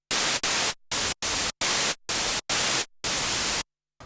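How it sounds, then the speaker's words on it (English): Bursts of harsh, hissing white noise from a Minimoog Model D app switch on and off repeatedly with abrupt silences between them, loud and steady within each burst. "White noise."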